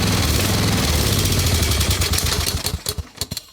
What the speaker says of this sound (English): I'm still pressing the choke blade in a little bit and getting it to run better